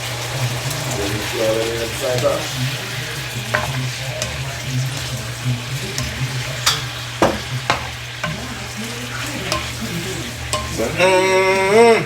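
Rinsed shrimp frying in a hot pan, a steady close sizzle with stirring clatter and scraping throughout, a voice talking over it near the end.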